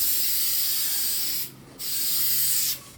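Close, loud aerosol spray paint hissing onto a car body kit in two sustained bursts with a short break between them, steady and airy, with no talking.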